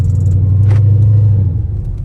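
A Dodge Charger SRT on snowy roads, its engine a loud, steady low rumble inside the cabin with a faint jingle, the revs easing slightly toward the end.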